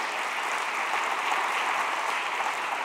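Church congregation applauding together in a steady, even wash of clapping, moderately distant and consistent throughout, with no distinct individual claps standing out.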